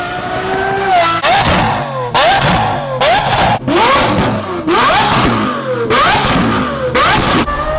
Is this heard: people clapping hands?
no